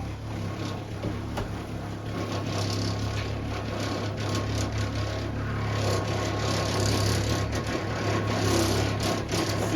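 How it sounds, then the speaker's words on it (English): A small electric water pump runs steadily for an off-grid shower, a continuous low mechanical hum with a faint whine, moderately loud and unbroken throughout. "Let's run this pump."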